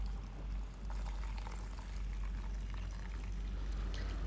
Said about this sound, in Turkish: Şimdi şöyle 1 litrelik sürahiye evdeki bir süzgeç yardımıyla süzüyorum.